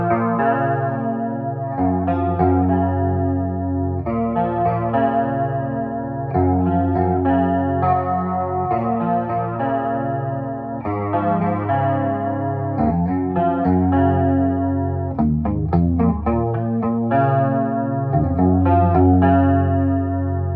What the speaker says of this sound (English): the Explorer through a clean amp, which is a DC5, Mesa DC5 with a chorus pedal